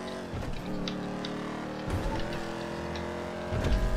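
Race cars in the video game Grand Theft Auto V roar along in a continuous engine drone with rising and falling pitch and a few louder surges, no voices over it.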